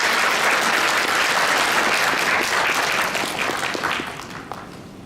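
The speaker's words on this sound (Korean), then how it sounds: "우리 감사의 박수를 한번 드리겠습니다." Audience at a church retreat giving applause of thanks, a loud, dense wash of clapping that holds steady and then fades out over the last second or so.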